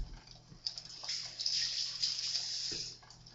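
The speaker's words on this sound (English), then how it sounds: "I'll wash my hands." Hands are washed under a running tap, giving a steady splashing hiss of water close by that swells slightly in the middle before easing off.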